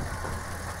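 Studebaker car engine idling steadily as it creeps forward, a close, even low rumble with no talking.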